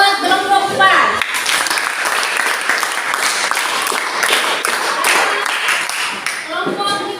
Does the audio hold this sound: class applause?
yes